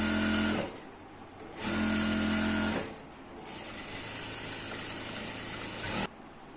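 A sewing machine stitches the seam of an ankle-length pant in three quiet, steady bursts, two short and one longer, separated by brief pauses with no talking.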